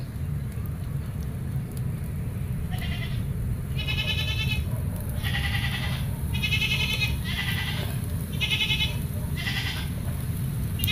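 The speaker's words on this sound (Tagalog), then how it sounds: "Yo, kambing." A goat bleats repeatedly, with about eight short, nasal cries in an uneven rhythm, fairly close, over a constant low background rumble and hiss.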